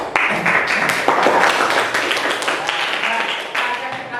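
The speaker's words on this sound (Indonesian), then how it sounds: "Tepuk tangan semua" Audience clapping in a classroom-style lesson session, a dense steady patter of many hands lasting throughout, fairly close and loud with no talk over it.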